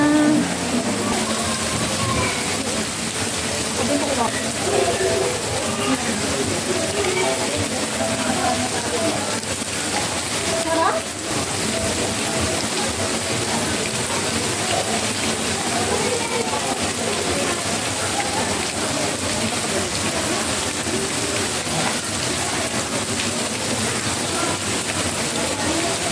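Cold running water rushes steadily at a bathing spot in Cavite, a loud, continuous wash of water filling the whole stretch without pause.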